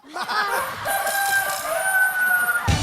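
A rooster crows loudly and close by in one long drawn-out call, with chickens clucking around it.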